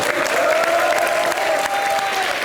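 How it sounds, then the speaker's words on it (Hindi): Studio audience of a Hindi comedy show breaking into loud, sustained applause, dense continuous clapping filling the room with faint crowd noise beneath it. "हमारे सुशील कुमार जी के लिए जोरदार तालियां।"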